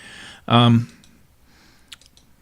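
A single sharp mouse click lands on a volume button in a Linux GTK Glade interface, coming shortly after a brief vocal sound in an otherwise quiet room.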